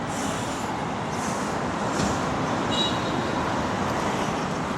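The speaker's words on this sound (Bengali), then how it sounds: "কী পরিমাণে ট্রাফিক দেখেন এখানে" Continuous road traffic along a street in a Chinese factory area, a steady broad rumble of passing vehicles with a few brief higher whooshes and tones, moderately loud and with no talking.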